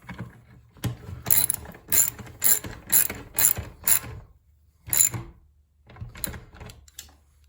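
A ratchet wrench clicks through repeated short bursts while tightening 10 mm bolts on a 1984 Corvette during a rebuild, the sharp close ratcheting coming in quick strokes with brief pauses, alone without talk.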